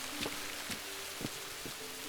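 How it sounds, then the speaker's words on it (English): Rain falls steadily in the survival game Rising World, a soft continuous wash broken by a few brief soft clicks and a faint tone, with no talking. "It started raining"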